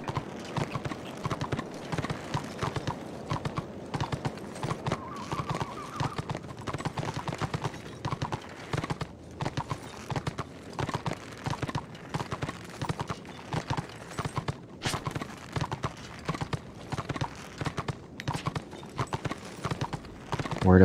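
Horse hooves clip-clop steadily and close in Warhammer Online, a continuous rhythmic trotting that runs the whole time with game sounds beneath, no one speaking.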